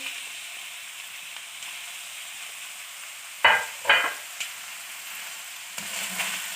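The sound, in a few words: capsicum and cabbage stir-frying in pan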